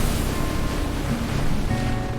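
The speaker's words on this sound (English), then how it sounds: "The sea is building behind us." Building sea waves surging around a fishing boat out after red snapper, a loud continuous wash of surf and wind roar close by, with no voices.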